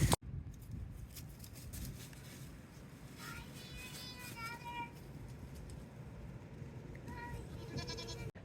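A curious goat on a farm bleating a few times at close range, with a person's voice also heard in the clip over a quiet outdoor background.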